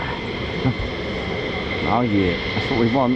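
F-35 fighter jets taxiing at RAF Lakenheath make a steady, distant engine roar with a high whine. Someone speaks excitedly over it near the microphone.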